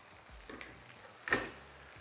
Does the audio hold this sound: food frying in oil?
yes